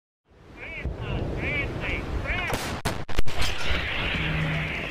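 Ukrainian frontline artillery salvo against Russian forces: after a spoken voice, two or three sharp, loud blasts close together with heavy low rumble, followed by a lingering windy roar.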